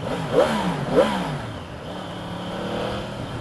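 A Yamaha YZF-R1M motorcycle engine with stock exhaust revs sharply twice in quick succession, then settles into a steady idle rumble, close and fairly loud.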